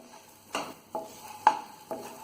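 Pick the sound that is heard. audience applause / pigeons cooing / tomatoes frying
tomatoes frying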